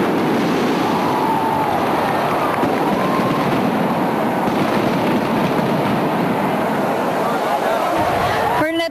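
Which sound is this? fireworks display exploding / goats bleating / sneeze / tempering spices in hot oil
fireworks display exploding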